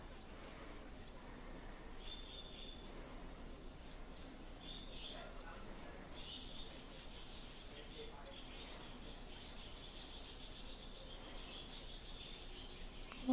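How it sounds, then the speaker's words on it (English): Faint high chirps and twittering from small birds go on continuously at a low level, growing busier partway through, with quiet background hiss. "those are noisy little birds"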